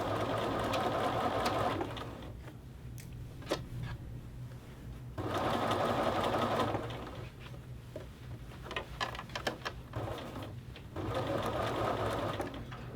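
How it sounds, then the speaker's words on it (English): Sewing machine stitching a sleeve to a bodice, running in three loud steady whirring bursts separated by quieter pauses filled with faint clicks and handling noises. "now I'm going back over top of my original stitching"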